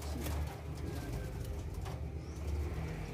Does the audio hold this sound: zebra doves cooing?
yes